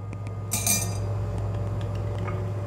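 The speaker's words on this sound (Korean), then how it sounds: "드디어 설탕과 재료가 커피하고 잘 섞이도록 잘 저어줍니다" A spoon clinks against a cup while stirring sugar and other ingredients into a caffe latte, with a bright burst of scraping clatter early on, then quieter taps over a steady background hum.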